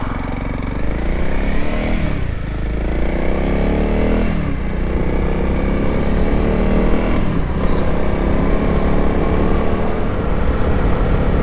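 A Honda CRF 300 single-cylinder motorcycle runs steadily and loudly up close, its dense engine drone holding for the whole stretch with a few gentle swells in pitch.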